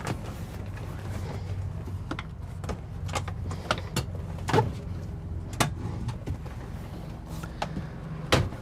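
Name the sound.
swiveling the seat in a Winnebago Solis van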